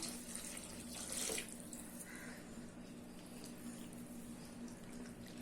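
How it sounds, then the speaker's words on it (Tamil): Water being poured into a pan of toor dal vada curry, a soft, close splashing stream that swells briefly near the start and then settles into a quieter steady trickle. "உப்பு போட்டுட்டு தண்ணி கொஞ்சமா ஊற்றலாம்."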